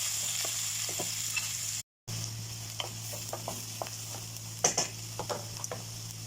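Garlic and onion sauté in hot oil in a pan, giving a steady close sizzle with light stirring clicks and scrapes throughout and one brief dropout.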